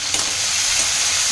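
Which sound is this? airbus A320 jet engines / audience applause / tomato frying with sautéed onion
tomato frying with sautéed onion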